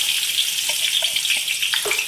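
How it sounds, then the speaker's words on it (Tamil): Onions with cardamom and cloves frying in ghee for Dindigul Thalappakatti chicken biryani, a steady close sizzle with faint crackles and a few soft stirring knocks, no voices. "ஆனியன் நல்லா வந்து ஃப்ரை ஆகிடுச்சு"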